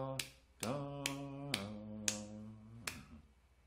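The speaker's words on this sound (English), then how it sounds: "Sometimes it's also good to work on rhythm by doing something like just clapping." Hands clap out a rhythm, six sharp claps in an uneven pattern. A sung or hummed vocal line runs under them in a quiet room.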